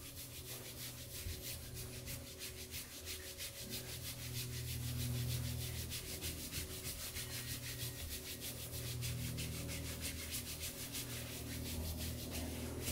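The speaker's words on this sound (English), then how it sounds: "Giving these ribs a little rub down so that they are feeling a bit more open in this torsion, in this posture." Hands rubbing firmly up and down the ribs during a massage, a soft, close, continuous swishing friction with steady back-and-forth strokes and no voices.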